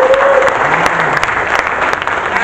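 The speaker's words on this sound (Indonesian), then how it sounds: "Tepuk tangan, jangan ragu-ragu." An audience applauds at a campaign coordination meeting of volunteers in a hotel, steady dense clapping filling the room throughout, with voices faintly mixed in.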